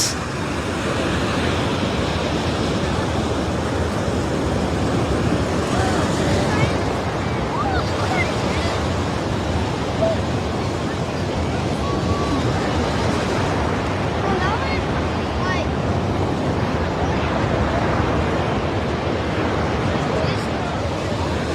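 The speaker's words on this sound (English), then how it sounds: "this big wave might take them all" Continuous roar of surf breaking on a beach with wind buffeting the microphone, waves rising and falling without pause, during a baby sea turtle release.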